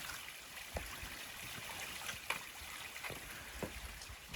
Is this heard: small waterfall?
yes